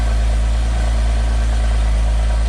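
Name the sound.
Porsche 987 Gen 2 Boxster S engine idling, standard exhaust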